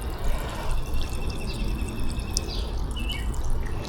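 Ferns outdoors are watered, and running water splashes and drips in a continuous, close wash while birds chirp faintly in the background; no one speaks.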